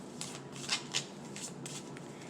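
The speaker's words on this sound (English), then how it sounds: "let's shuffle the cards" A deck of cards is shuffled close by, giving a few quiet riffling bursts and soft flutters over a low background hum, with no talking.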